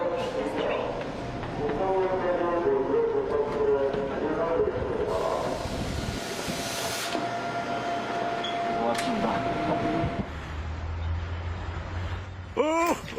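A subway ride on Seoul's Line 1 from Mangwolsa station in Uijeongbu, with steady rumbling train noise and ventilation hiss under near-continuous talk, then a brief screech near the end.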